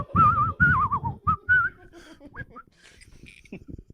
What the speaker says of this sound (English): Is that the Kill Bill whistle?